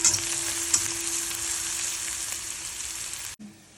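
Onion, green chilli and asafoetida sizzling and frying in a pan while being stirred, a steady close hiss with occasional scrape, cutting off abruptly near the end.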